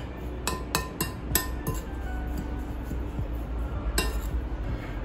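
A metal spoon clinks sharply against a bowl while coconut powder and milk powder are mixed for paan laddu, about six bright taps in an uneven cluster early on and one later, close and clear over a low room hum.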